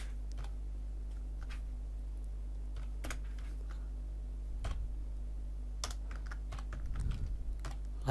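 Keys on a computer keyboard are typed in short irregular bursts of light clicks and taps, close and fairly quiet over a steady low hum.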